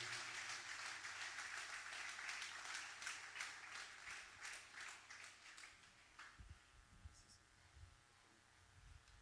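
A church congregation claps for the preacher during a Sunday service, a dense wash of applause that gradually thins and fades toward the end, with a few scattered voices and low rumbles underneath.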